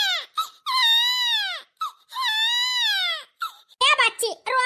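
A little girl cries in two long, high, wavering wails, followed by short broken sobs and whimpers, close and loud.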